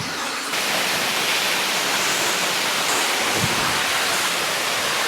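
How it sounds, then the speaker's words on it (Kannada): A waterfall near a village pours in a steady, dense roar that fills the whole stretch without a break, close and even in loudness, with no voices over it. "ನೋಡಿ ಸರ್ ಹೆಂಗಿದೆ ಜಲಪಾತ?"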